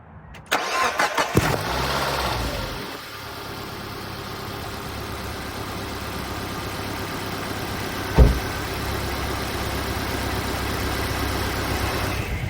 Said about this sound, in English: All right, I'm gonna start the car and then keep filling it.